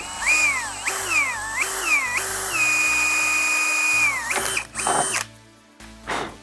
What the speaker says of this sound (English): take a 5/64 drill and drill it right there